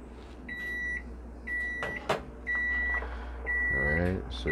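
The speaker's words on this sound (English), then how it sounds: "you hear the timer in the back" A kitchen timer beeps repeatedly in the background during corn spawn preparation, sounding four evenly spaced long tones with brief clanks and low room hum between them, and a voice speaks briefly near the end.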